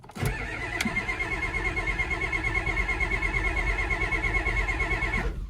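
A 1989 Ford F250, just fixed with a new starter, cranks briefly and catches. Its engine then settles into a steady, close idle that runs on alone with no voices.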